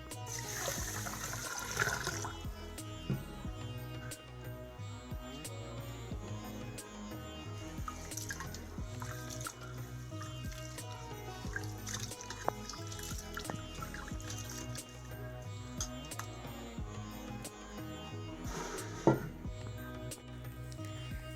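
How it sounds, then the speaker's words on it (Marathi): Water is poured over rice to wash it in a home kitchen, a faint, quiet trickling and light splashing that carries on softly in the background. "हे आधी आपण स्वच्छ धुवून घेऊया पाणी घालते"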